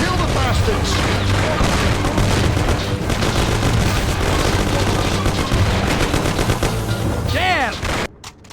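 Intense shootout gunfire in the Mafia: The City of Lost Heaven game, with continuous loud rapid shots and bursts, shouting voices mixed in, and the firing breaking off abruptly near the end.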